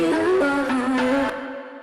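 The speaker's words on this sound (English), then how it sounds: "So that was a little sample I chopped up from a choir I'd worked with years ago." A chopped choir vocal sample, stretched, quantized and heavily distorted, sings sustained pitched notes that step between tones before cutting off and fading out.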